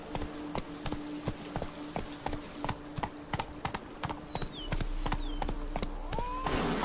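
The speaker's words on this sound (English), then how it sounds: "Even a horse drops if you ride it at a constant gallop." Hooves clop in a quick, even galloping rhythm, close and steady, with a brief whinny-like tone near the end, in The Witcher 3: Blood and Wine.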